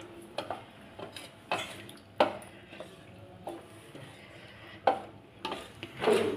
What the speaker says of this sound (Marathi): आता हे पुन्हा एकदा छान हलवून घ्यायचंय